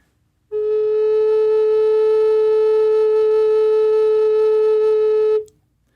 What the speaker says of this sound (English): when you have all the holes closed, here's the sound the flute should make